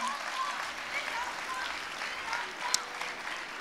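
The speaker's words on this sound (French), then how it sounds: "On peut les applaudir, hein." An audience at a casino introduction event applauds in a steady, even wash of clapping, moderately loud throughout, with faint voices mixed underneath.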